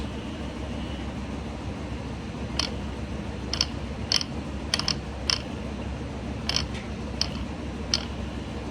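An LG all-in-one washer dryer drain pump, powered by a 110-volt jumper, runs rough with a steady low hum, broken by a scatter of sharp clicks and rattles.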